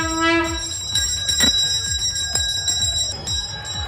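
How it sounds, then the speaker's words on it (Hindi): Temple bells ringing rapidly at a riverside Hindu ceremony welcoming the Ganga at Prayagraj, a dense metallic clanging with sustained tones that may include conch shells, loud and continuous with no speech. "महंत, पुजारियों, श्रद्धालुओं ने शंख और घंटे बजाकर गंगा मैया का स्वागत किया"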